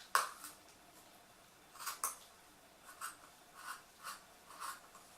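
Scissors cut fabric for a semicircle skirt with a few soft, scraping snips spaced about half a second to a second apart, quiet and close in an otherwise hushed room.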